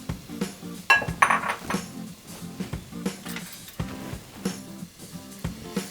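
Metal utensil scraping and clinking against a hot pan while stirring onions, in a steady, irregular rhythm, close up, with a faint sizzle underneath.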